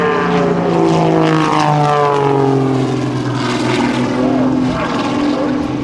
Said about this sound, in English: Look at Jim LeRoy as he snap rolls that airplane